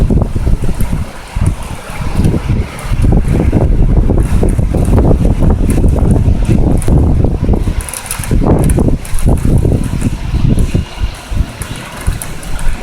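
Strong wind in a violent thunderstorm over Amiens, loud buffeting gusts roaring against the microphone with rain hiss underneath, surging repeatedly and staying intense throughout without any speech.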